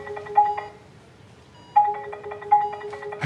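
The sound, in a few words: mobile phone ringing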